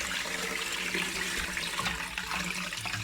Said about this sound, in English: So hopefully I'll be able to catch all that nice broth in under the sieve